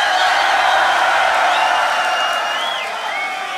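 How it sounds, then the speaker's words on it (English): A large crowd cheers and yells loudly at the Grand Beatbox Battle 2019, a dense continuous roar with whoops, easing slightly toward the end. "Do we have a crowd? Make some noise."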